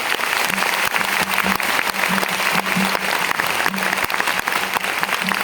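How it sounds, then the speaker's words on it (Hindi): A large audience at a business seminar claps loudly and densely in an unbroken roar. A faint low hum runs underneath. "एक बार जोरदार तालियां मेरी मम्मी के लिए बजा दो"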